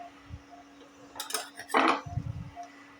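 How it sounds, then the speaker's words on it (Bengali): A utensil knocks and scrapes against a bowl while semolina and yogurt batter is mixed, giving a few soft clinks and one louder scrape, close and quiet. "আর এই যে আমি সুজির মধ্যে দইটা নিয়ে ব্লেন্ড করে নিয়ে একটা বাটির মধ্যে ফাটিয়ে নিচ্ছি"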